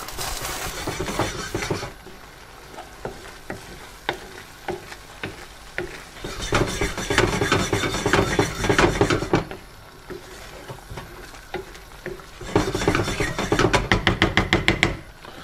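Curry base ladled into a dansak curry in a hot pan and stirred through, with bursts of loud sizzling and frying alternating with quieter scraping and stirring, no talk.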